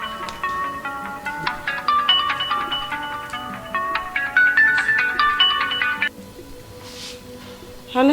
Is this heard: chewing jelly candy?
no